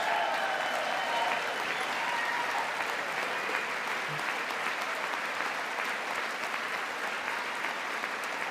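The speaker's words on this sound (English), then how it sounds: "Hey, you got Lawler clapping." Sustained, dense applause fills a joint session of Congress, a large crowd clapping steadily and evenly for the whole stretch at close, full volume.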